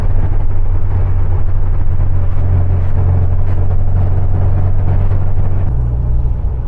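A car engine fitted with reworked Weber IDF carburettors runs with a steady, loud low rumble and hum that holds throughout, with no voices.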